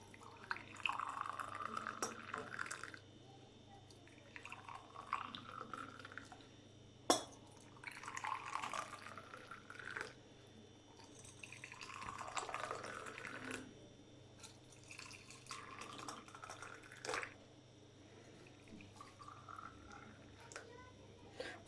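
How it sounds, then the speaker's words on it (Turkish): Tea poured from a teapot into glasses in several separate bursts, each a few seconds long with gaps between, over a quiet room hum; faint clinks of glass. "Şimdi ben çayları dolduracağım."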